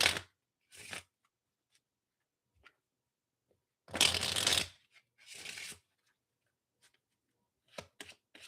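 Tarot cards shuffled during a live reading, heard as several separate riffling bursts with quiet gaps between them, the longest and loudest near the middle, with a few short taps and flicks toward the end.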